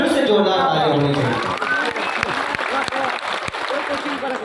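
An outdoor crowd at a district founding-day celebration in Madhubani breaks into applause after a performer's call, the clapping beginning under voices and settling into a scattered run of sharp individual claps.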